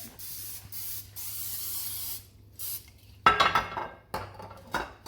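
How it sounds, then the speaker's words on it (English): Several short hissing bursts of aerosol cooking spray into a small pan, then a sharper spray with a faint metallic clink against the pan, close and clear. "So I just use this little pan here, and I'm going to spray it."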